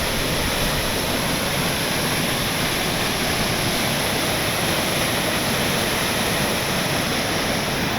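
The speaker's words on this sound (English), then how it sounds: "The natural lava rock waterfall." A natural lava rock waterfall roars steadily in the distance, a dense, unbroken wash of falling water with no voices over it.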